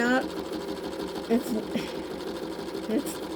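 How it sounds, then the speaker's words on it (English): Sewing machine stitching a raw-edge appliqué art quilt, a steady close mechanical hum with brief pauses and speed changes, a person talking over it. "I'm going to go back around and quilt this piece"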